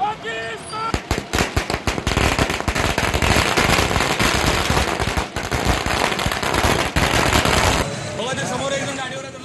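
Long strings of firecrackers burst in rapid, crackling volleys during street celebrations in Maharashtra, loud and dense throughout before easing off near the end, with voices faintly underneath.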